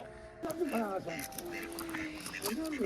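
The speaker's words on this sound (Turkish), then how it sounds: "Bu ördekler ne?" Several ducks quacking nearby in quick nasal bursts, overlapping with a person talking close by in a village.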